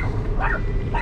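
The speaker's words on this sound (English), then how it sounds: "Dog's going totally crazy." A dog on a city street barks in two quick, excited bursts amid heavy low traffic-like background noise, moderately close and agitated.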